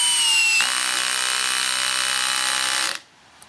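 Bosch and Makita cordless drills strain under load in a torque test, a loud, close, steady high-pitched motor whine that holds for about two and a half seconds, then cuts off abruptly.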